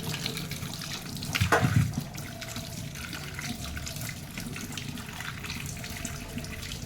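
Guavas are rinsed under a running tap, a steady soft stream of water with a brief louder splash and handling as the fruit is moved under the flow.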